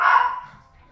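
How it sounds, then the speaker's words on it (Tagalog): A single sharp dog bark close by, ringing briefly and fading into quiet. "Yan ang aso."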